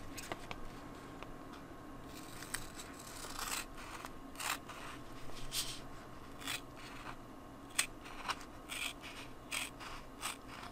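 Scissors trimming faux leather made from parchment paper, a series of faint irregular snips and crinkly rubbing close up.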